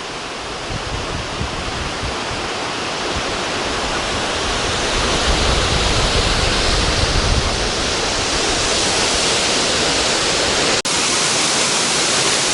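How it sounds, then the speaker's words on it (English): Horsetail Falls near Valdez, Alaska, pours down in a continuous broadband hiss and roar, swelling slightly louder partway through and holding steady, with no voices. "And this is a better view of the waterfall in the middle."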